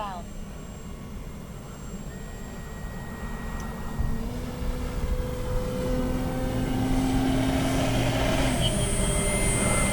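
An E-flite CZ T-28 radio-controlled model airplane makes a slow low pass with flaps and landing gear down, its electric motor whine growing louder toward the end as it approaches, with someone talking over it.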